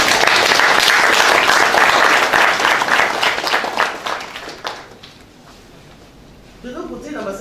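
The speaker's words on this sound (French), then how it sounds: "Je vous prie de bien vouloir l'applaudir." Forum audience breaks into loud, dense applause that tapers off after about four seconds into near quiet, before a voice starts talking at the end.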